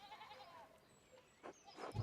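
Sheep bleat in the video game Pentiment, a couple of short faint bleats rising near the end over a quiet background with soft thin tones earlier.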